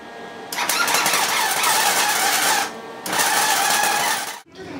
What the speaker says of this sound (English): It's time to weld them in.